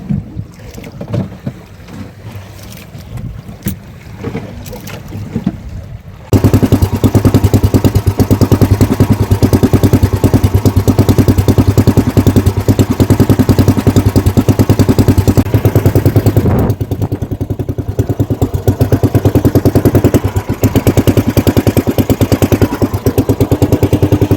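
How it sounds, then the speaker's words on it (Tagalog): A small fishing boat's misfiring engine starts after a quieter stretch of wind and water, then roars loud and close with a rapid uneven chatter, briefly easing off before surging again over wind buffeting the microphone. "yung makina nito ay namamalya"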